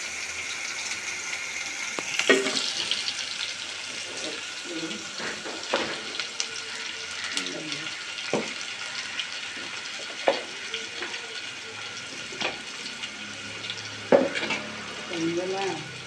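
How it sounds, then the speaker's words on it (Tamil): Spices tempering in hot oil in a pan for a Tamil-style fish curry (meen kulambu), a steady close sizzle and crackle with occasional sharper pops and stirring clinks, no talking. "கறி குழம்புக்கு எப்படி தாளிக்கணும் அதே மாதிரி தான் இதையும் தாளிக்கணும்."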